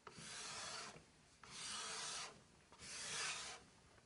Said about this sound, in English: Gently bend the card scraper in the middle and tilt it forward slightly and run it across the wood.